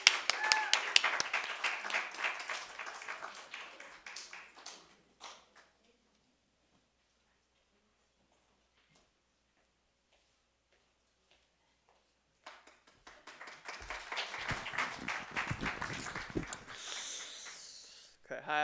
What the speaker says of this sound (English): let us give a round of applause to welcome Minshi